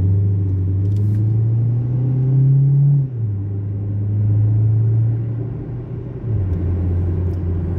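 Ford Focus with a transmission fault, P0805, driven in stop-and-go traffic: low engine drone inside the cabin whose pitch climbs, drops at gear changes and climbs again, steady and unbroken, with no talk.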